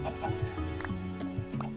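Chickens in the Minecraft video game give a few short, separate clucks over a steady hum of in-game music.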